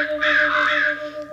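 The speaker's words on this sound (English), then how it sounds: "Listen to the crows." A single drawn-out crow caw rings out loud and close over a soft, steady background tone, lasting under a second before fading.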